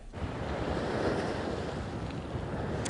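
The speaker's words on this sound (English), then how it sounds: "The wind has picked up, but the rain is gone for now, at least." Strong wind and surf roar along the Rhode Island coast during Tropical Storm Henri, a steady, loud wash of waves with wind buffeting the microphone, no voices.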